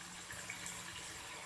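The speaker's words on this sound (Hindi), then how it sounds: "यहाँ इसमें मैं थोड़ा सा पानी शामिल करूँगी" Water poured into a pan of lightly fried potatoes, a brief steady gush and hiss of liquid, soft and close, without talk.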